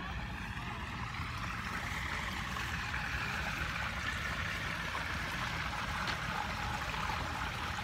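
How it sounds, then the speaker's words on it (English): Steady running water flows without a break, a soft, even rushing and trickling that stays at a constant low level throughout, with no voices. "It's running water here."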